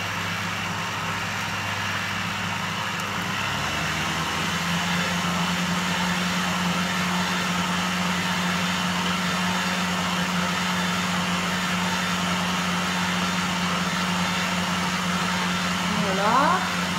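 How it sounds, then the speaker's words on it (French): A food processor's mixing blade whirs steadily, blending flour powders and salt for northern French faluche bread dough. The motor drone is loud and continuous, with a slight change in pitch early on. "On va mélanger les poudres correctement à l'aide du mélangeur de robot."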